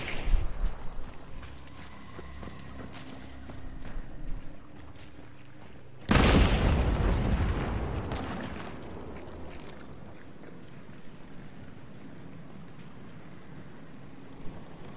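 Explosive ammo blast in the video game Hunt: Showdown, one sudden loud booming burst partway through that decays over a couple of seconds, set against quiet ambient background.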